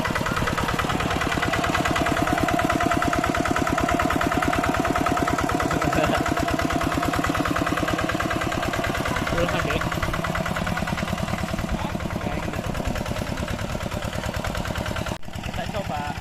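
A tractor engine idles steadily beside a rice paddy, a close, continuous low chugging throb with a regular knocking pulse that holds for the whole stretch, with brief voices over it.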